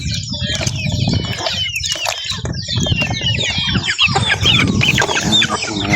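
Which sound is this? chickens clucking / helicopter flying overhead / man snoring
chickens clucking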